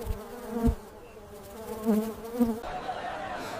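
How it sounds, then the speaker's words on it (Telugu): Mosquitoes buzz with a thin, wavering hum near stagnant water, swelling and fading in a few close passes. "దోమలు నిలిచిపోయిన నీటిలో పెరుగుతున్నాయి"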